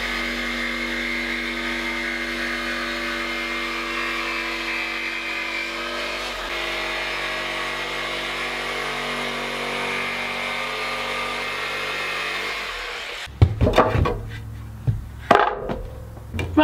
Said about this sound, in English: Had to drill a pilot hole so that I could get the blade down in to make this straight cut while still maintaining square corners.